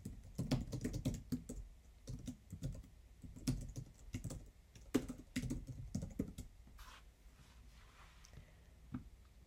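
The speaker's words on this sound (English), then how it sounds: "select the text, hit delete, and type a new name" Someone types on a computer keyboard, entering new headline text with quick, irregular bursts of keystrokes and brief pauses, close and fairly quiet, with no speech.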